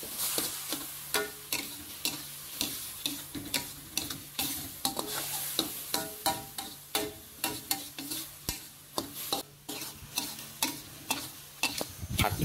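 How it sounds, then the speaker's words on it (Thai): Minced pork stir-fried in a wok with chili paste, torn kaffir lime leaves and pickled bamboo shoots: steady loud sizzling broken by a quick run of sharp spatula scrapes and clanks against the pan, with no voices. "ผัดทุกอย่างให้เข้ากันอีกสักเล็กน้อย"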